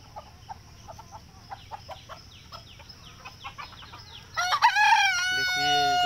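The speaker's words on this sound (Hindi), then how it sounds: "सब लड़ाकू मुर्गा है दोस्तों, देसी है, देसी प्योर देसी है दोस्तों।" Desi fighting roosters on a free-range farm cluck and chatter faintly for several seconds before one crows loudly and close by in a long, drawn-out call.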